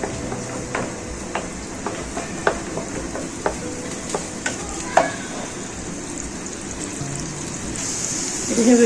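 Onions fry in oil over a medium flame for a dal tadka, a steady sizzle broken by sharp ticks and spatula clicks, growing louder at the end.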